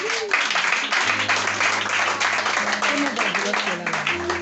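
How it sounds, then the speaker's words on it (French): A church congregation applauds the Lord during a French-language service, sustained clapping from many hands with a voice speaking over it throughout. "On peut acclamer le Seigneur pour elle"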